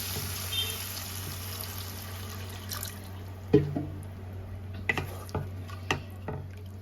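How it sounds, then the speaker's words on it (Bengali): Water goes into a red duck egg curry in a pan, with soft splashing and a few distinct drips and clinks over a low hum, close and fairly quiet. "এবার জল দিয়ে দেবো"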